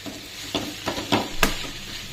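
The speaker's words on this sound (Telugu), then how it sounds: "ఒక 2 minutes ఫ్రై అవనిద్దాం" Bodakakara (spiny gourd) curry fries in a pan with red chilli powder, giving a soft steady sizzle broken by four or five scraping stirs of a spoon at an even pace.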